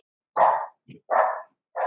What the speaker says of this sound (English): They were not barking all morning until we started to speak.